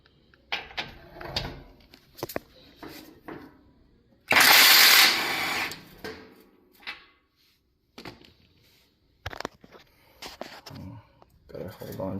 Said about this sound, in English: This takes a 14mm socket. Got a small impact here.